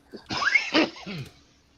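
A single sharp, breathy sneeze burst, close and fairly loud, trailing off into a short voiced tail.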